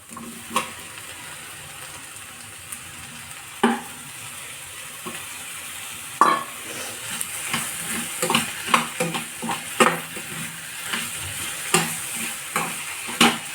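Onion and tomato sauté in a pan for a mussel roast, a low continuous sizzle broken by repeated clicks and scrapes of a spoon stirring against the pan.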